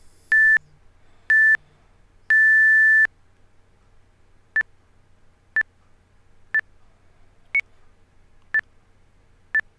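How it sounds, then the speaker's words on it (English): HeavySet workout app counting down a rest timer and then a tempo timer: three longer electronic tones, the last one held, followed by six short sharp beeps spaced about one second apart, loud and clear with no talk. "once the rest timer finishes, the tempo timer should begin."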